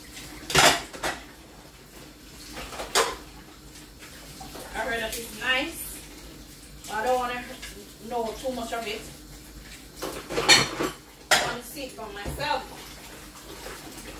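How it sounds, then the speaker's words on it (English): Plates and dishes being washed at a kitchen sink: repeated clinks and clatters of crockery and cutlery with running water, close and fairly loud, while a person talks intermittently over the washing. "Just a new same plate, let me wash them now."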